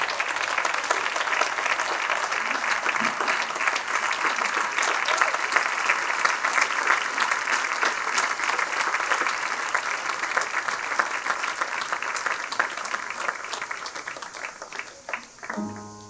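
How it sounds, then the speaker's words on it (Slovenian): Sustained, loud applause from an audience at a municipal holiday celebration in Izola fills the space evenly, dense clapping that begins to fade and thin out near the end. "Dajte en velik aplavz, prosim."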